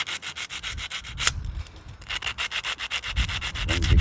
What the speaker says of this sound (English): I'm gonna lightly sand the spark plug because it needs lightly sanding